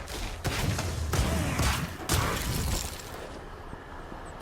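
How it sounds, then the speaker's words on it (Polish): Bursts of gunfire in the video game inFAMOUS Second Son crack out in quick succession over a dense, noisy background, with several sharp shots and a final burst at the end. "Słyszałem strzały."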